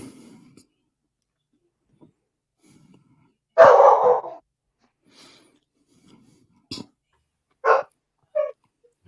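A dog barks and whimpers in short, separate bursts, one louder bark followed by a few quicker, thinner yelps and breathy whines against near silence.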